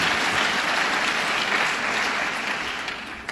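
A crowd at the Governor's State of the State and budget event in Westchester gives a sustained round of applause for a city council president, dense steady clapping that fades slightly at the end.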